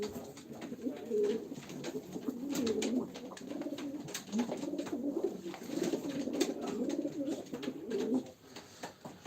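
Pigeons held for a live pigeon auction of playing birds coo continuously in a low, rolling murmur, several birds overlapping at close range with faint background noise.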